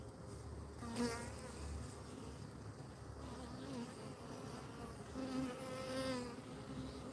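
Honeybees from a swarm fan their wings outdoors, a steady soft buzzing hum with individual bees droning past the microphone now and then, quiet and continuous with no voices.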